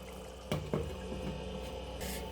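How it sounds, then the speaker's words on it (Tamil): Soft, steady bubbling of fish curry simmering under a lid, with a couple of brief louder clinks or pops near the start. "நல்லா இதை வந்து கொதிக்கட்டும் ஒரு பத்து நிமிஷம்"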